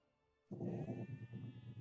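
A sheep bleats in Age of Empires II: Definitive Edition, a single wavering in-game bleat that starts abruptly and holds for over a second, close and clear, with no talk over it.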